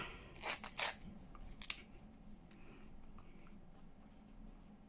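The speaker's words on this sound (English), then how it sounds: "scissors are gunked up" Several quick, crisp snips of gunked-up scissors cutting paper near at hand, bunched in the first two seconds, then a quieter rustling background.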